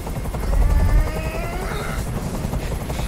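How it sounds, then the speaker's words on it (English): A helicopter's rotor chops steadily and loudly with a whining engine tone, close and continuous, in the video game Detroit: Become Human. "Tell that helicopter to get out of here!"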